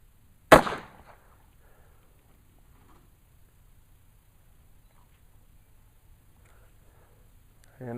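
A single sharp, loud double-action shot from a Taurus Judge Public Defender polymer revolver chambered in .45, fired outdoors, followed by quiet and a faint noise at the very end.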